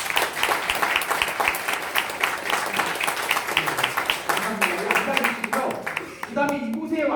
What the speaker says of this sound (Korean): 우리 한번 뜨겁게 한번 박수 한번 쳐주세요